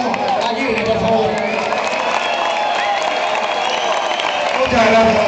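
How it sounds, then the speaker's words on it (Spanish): A crowd at a farewell event applauds and cheers a performer. The clapping and shouting stay steady and fill the whole clip, with voices mixed in. "Quiero un fuerte aplauso para Pedro Aguirre, por favor"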